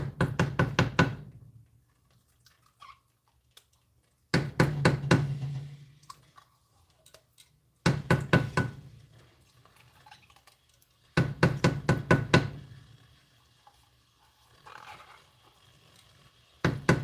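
Thick tomato paste being scooped out of a can, heard as four separate clusters of hard knocking and scraping bursts with quiet gaps between them, close and fairly loud, with no voices.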